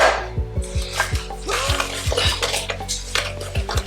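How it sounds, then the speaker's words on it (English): A whisk beats butter and sugar together by hand in a bowl, giving quick rhythmic scraping strokes with regular clinks against the bowl, close and steady and alone. "Because now we have to whisk the butter and sugar together."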